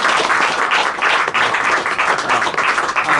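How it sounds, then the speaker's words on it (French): An audience applauds at a talk on the moralist La Bruyère: a loud, continuous wash of many hands clapping together, close and unbroken for a few seconds. "On applaudit La Bruyère."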